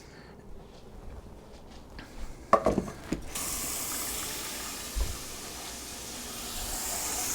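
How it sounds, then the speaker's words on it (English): Asparagus spears are rinsed under a running kitchen tap: a few clatters and knocks come first, then a steady, close rush of water pours continuously to the end. "So let me rinse these off."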